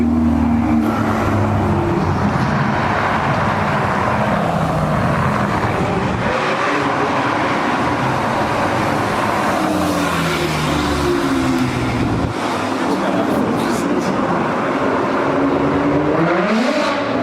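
A Ferrari 488 Spider supercar engine roars loudly as it drives past during a supercar tour in Haspengouw, with rising and falling revs and a continuous, close, powerful exhaust note.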